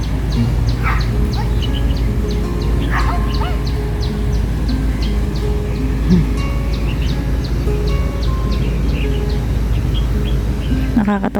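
A small dog yaps at an outdoor plaza near a ferry landing, a few short sharp barks heard at mid distance under a steady hum of crowd chatter, nearby birds and general outdoor bustle.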